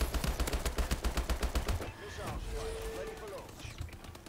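Rapid turret gunfire from the video game Call of Duty Advanced Warfare rattles in a fast, steady burst, then stops and gives way to quieter game effects.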